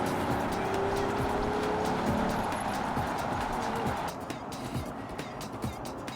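A 1997 Aston Martin DB7 Vantage on the move, its engine a steady loud drone with road and wind roar, easing slightly in intensity partway through.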